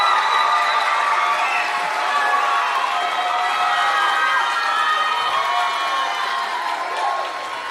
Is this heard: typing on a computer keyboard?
no